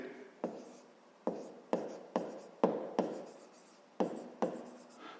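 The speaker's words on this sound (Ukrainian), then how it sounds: "Давайте так і запишемо" Pen strokes scratch across paper while a fifth-grade maths exercise on rectangle area is written out by hand, arriving as a series of distinct close, crisp bursts in an uneven rhythm, with no talking.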